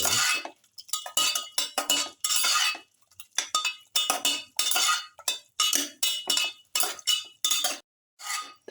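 A metal spoon stirs mutton pieces with salt in a pot, making a close, steady run of clinks and scrapes against the metal in short, rhythmic bursts with brief gaps.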